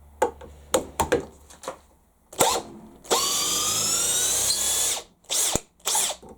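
Cordless power drill driving a screw into wood, several short bursts of motor whine, then a long continuous run of nearly two seconds, followed by two more brief bursts, close and loud.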